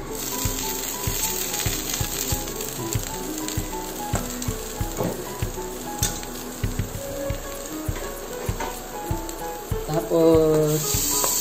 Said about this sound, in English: lulutuin naman natin yung baby potato. So, lagyan nyo lang uli ng butter yung pan.